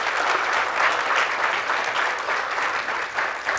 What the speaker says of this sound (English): please, a round of applause for our great panel